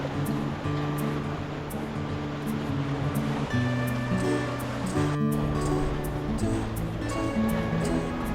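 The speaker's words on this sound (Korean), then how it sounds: "파도 소리와 갈매기 울음소리가 어우러져 어제의 피로를 조금씩 씻어주는 듯합니다." Sea water at a quiet morning harbour with moored boats washes in a steady, broad hiss, continuous and fairly close, with faint tonal hums and small clicks running beneath it.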